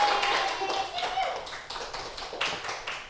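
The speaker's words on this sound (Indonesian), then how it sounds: "Tepuk tangan untuk semuanya." Students in a classroom microteaching session clap for their classmates, a loose patter of separate claps fading in and out with a few sharper bursts, mixed with faint voices.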